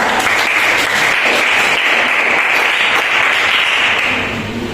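A classroom of high school students applauds a classmate after her English presentation, steady clapping from many hands that holds at an even level and tapers off slightly at the end.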